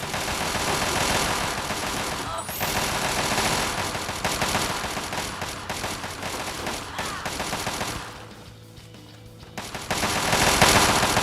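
Sustained automatic gunfire from the video game Fallout 3 rattles loudly and continuously, with dense rapid shots, a brief lull near the end, then the firing resumes.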